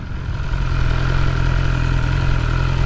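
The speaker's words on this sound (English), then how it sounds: "The engine is just on tick over, gonna pull us along" Motorcycle engine idling on tick over, a steady low rumble close by with no talking over it.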